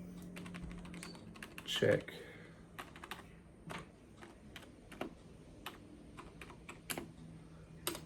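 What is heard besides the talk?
typing on a computer keyboard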